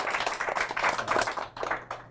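A book forum audience gives brief applause for the guest, a short burst of steady clapping in a hall that fades out within a couple of seconds.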